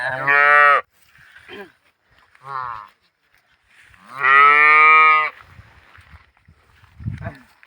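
A Jersey cow moos loudly and close by, two long lowing calls separated by quieter shorter sounds and a brief voice.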